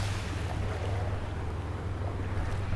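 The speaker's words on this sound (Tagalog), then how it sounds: "medyo malakas yung alon" Strong, steady rush of surf and wind filling the air at Anawangin Cove, a constant roar of strong waves along the shore with no pauses.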